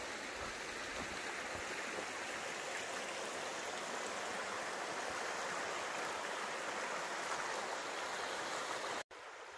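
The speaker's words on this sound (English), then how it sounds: "here's the river crossing" A river flows at a trail crossing, a steady broadband rush of water heard alone and fairly faint, with no voices.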